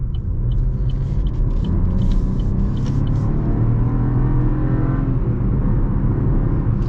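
A 2024 Chevy Trax RS with its turbo engine and six-speed transmission accelerates, a steady loud low rumble and engine drone heard from inside the car, with no talking.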